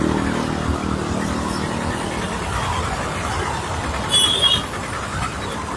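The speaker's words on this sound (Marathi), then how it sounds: "पूर्ण ट्रॅफिक आहे." Vehicles stuck in a traffic jam on a city road, a continuous low rumble of idling engines with a brief louder passing sound near the end and no voices.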